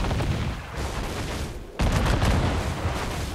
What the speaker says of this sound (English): Mortars in range! Watch her burn.